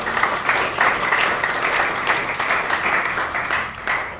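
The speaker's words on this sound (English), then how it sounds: "a big welcome, a big applause to these three panelists." Steady, moderately loud applause from a workshop audience on sustainability partnerships in the leather industry, welcoming three panelists, a continuous dense patter of many hands lasting about four seconds.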